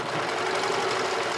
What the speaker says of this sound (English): I'm going to just join them together with a tight zigzag stitch